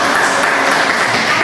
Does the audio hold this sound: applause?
yes